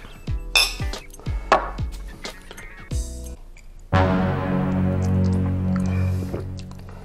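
Glasses clink together in a toast with bourbon whiskey: a series of bright, ringing taps followed by a longer resonant chime that lingers and decays, close and loud.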